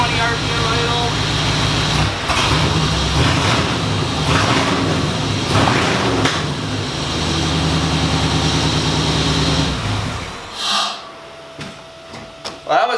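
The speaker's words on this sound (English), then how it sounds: "Windows work. 820 RPM idle." The engine of a 1950 Chevy Coupe idles at 820 RPM with a steady, close, low rumble that cuts out near the end, leaving brief quiet and faint clunks.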